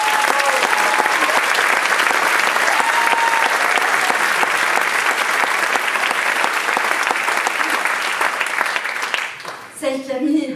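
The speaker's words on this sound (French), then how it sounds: "Je voudrais qu'on applaudisse du fond du cœur celle qui a coécrit ce spectacle avec moi" Loud, continuous applause from a theatre audience at the close of a French stage show, filling the room steadily before a voice cuts in at the very end.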